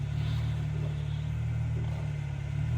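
A Jeep JK engine revs steadily under load as it climbs an off-road obstacle, a continuous low rumble with a strong droning hum holding at close range for the whole stretch.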